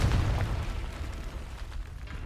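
A Confringo fire spell bursting in the Hogwarts Legacy video game, a loud low boom at the start that rumbles and fades into a dull, sustained roar over a couple of seconds, with no talking.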